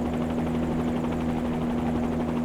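Bell 47G helicopter engine from Microsoft Flight Simulator, a steady loud drone with a strong low tonal hum and rapid rotor chop running unbroken throughout, no voices.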